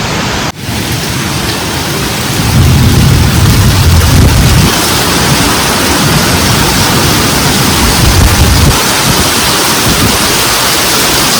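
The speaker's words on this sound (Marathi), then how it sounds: "पाऊस दाखवते तुम्हाला" Heavy village rain pours down in a loud, continuous hiss that drums on nearby surfaces without any pause.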